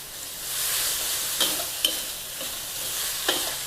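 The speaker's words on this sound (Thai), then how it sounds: "เราก็จะใส่เห็ดค่ะ ลงไปค่ะ ใช้ไฟแรงค่ะ" Mushrooms stir-fried over high heat for a Thai basil dish, a steady close hiss of sizzling with a few soft scrapes of the spatula against the pan.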